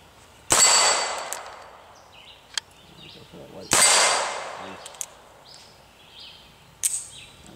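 Cowboy action revolver with a 10-inch barrel firing two loud, sharp shots about three seconds apart, each with a ringing outdoor decay, followed by fainter metallic clicks and knocks.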